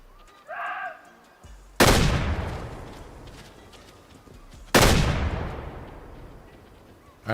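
Two loud, sharp hunting-rifle shots ring out in Way of the Hunter, each followed by a long rolling echo across open country, with a faint animal call before the first.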